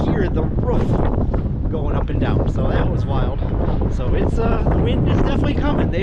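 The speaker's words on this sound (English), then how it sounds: "the wind is starting. I'm sure you can hear that. It's probably 20 mile an hour winds right now. It's really blowing." Strong wind of about 20 mph blowing outdoors and buffeting the microphone, a loud continuous roar with gusty surges throughout.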